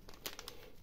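Plastic bag and bubble wrap packaging around a small flight controller board crinkling in a few quick soft rustles, close by and faint, with no talk.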